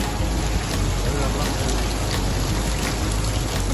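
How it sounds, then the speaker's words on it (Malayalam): Steady rain pours down on a strawberry farm in Riyadh, making a loud, unbroken hiss of drops hitting leaves and ground, close by and constant throughout. "മഴ പെയ്യുന്ന"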